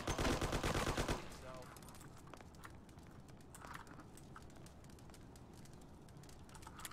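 Rapid burst of gunfire in the Mafia video game opens the moment, dense and loud for about a second, then gives way to quieter scattered game noise and occasional faint clatter.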